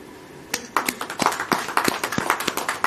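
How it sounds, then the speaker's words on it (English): Applause from the audience at a national convention of electronics and telecommunication engineers, made of distinct, unevenly spaced hand claps from a modest number of people, close and crisp, with no talking. "must give a rousing applause to the organizers"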